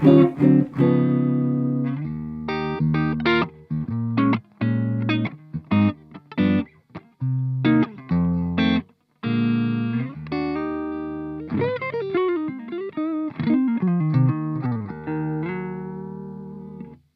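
Clean electric guitar through the clean channel of an ENGL Ravager 20-watt high-gain amp, played in chords and short stabs with sharp stops between, then a run of bending single notes, bright and undistorted.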